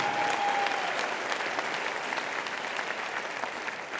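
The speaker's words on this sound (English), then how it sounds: "a quick round of applause for all the wonderful panelists right here today" An audience applauds panelists at a festival of ideas, a dense, steady wash of many hands clapping at even loudness throughout, with no talk over it.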